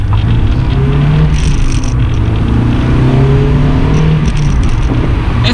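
A stock Honda S2000 two-seater accelerating, heard as a loud, steady engine drone with a rising whine. Road and wind noise sit underneath, and no one speaks.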